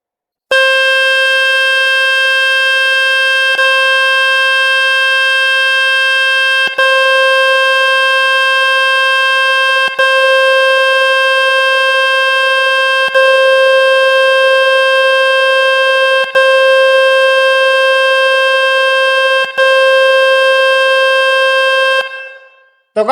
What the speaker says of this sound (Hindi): आपके मोबाइल से बीप की आवाज आने लग जाएगी